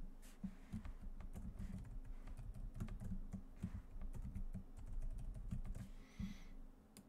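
A password is typed on a computer keyboard: rapid, irregular key clicks, quiet and close, continuing for several seconds.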